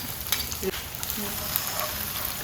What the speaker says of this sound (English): Allow this saute for less than a minute, just about 30 to 40 seconds.